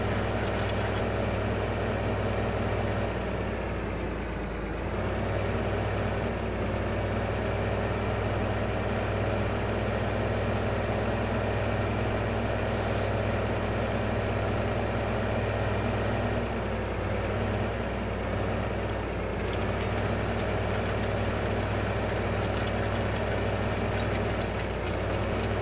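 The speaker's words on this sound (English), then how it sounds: "tractor's hard to drive straight" A tractor engine in Farming Simulator 15 drones steadily and loudly for the whole stretch, a constant low rumble with no break and no talk over it.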